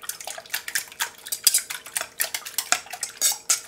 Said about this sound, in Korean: 한 방향으로 좀 저어주세요